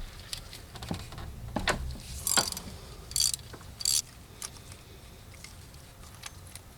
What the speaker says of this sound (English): I've just got the spark plug socket here on this long handle wrench for some leverage to break this